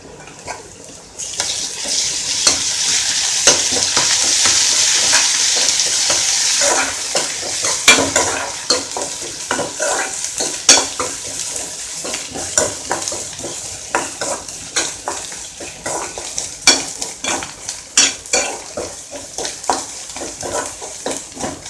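Ginger garlic paste hits hot oil in a pan with a loud, bright hiss, then settles into a softer sizzle under repeated close scrapes and clinks of a spoon stirring, with no speech.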